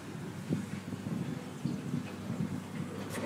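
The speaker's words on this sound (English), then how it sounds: "It's windy." Wind blows steadily outdoors on a walk toward the woods, a constant broadband rush with gusty buffeting against the microphone and no talking.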